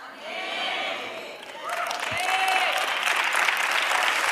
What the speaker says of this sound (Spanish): Ahora sí están aplaudiendo con ganas, porque usted entendió.